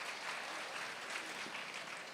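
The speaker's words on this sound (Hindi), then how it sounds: "बहुएं ताली तो बजा दो।" Applause from a crowd at a Hindi religious discourse, a continuous even patter of many hands clapping at moderate distance, sustained for the whole stretch without voices.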